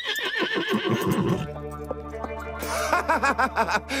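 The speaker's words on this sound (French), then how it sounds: "Et un cheval?" A cartoon horse lets out a loud, wavering whinny, then a second series of pulsing neighs after a brief musical pause.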